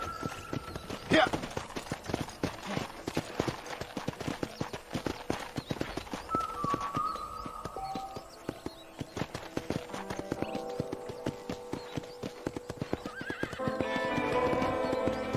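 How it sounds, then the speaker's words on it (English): Horse in Red Dead Redemption, with rapid, close hoof clip-clops running throughout and a couple of whinnies breaking through, while voices talk over the hoofbeats. "I picked out a fine horse for you. Giddy up!"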